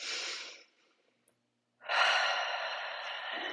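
Two audible breaths during a no-equipment core workout: a short exhale, a pause of near silence, then a longer, steady breath in or out. The breathing is close and soft, with no talking.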